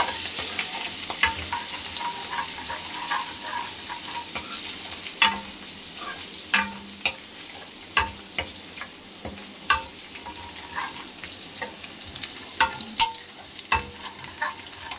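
Ginger garlic paste frying in a pan for ghiya dal, a steady sizzle under repeated sharp clinks and scrapes of a stirring spoon against the pan, no talking.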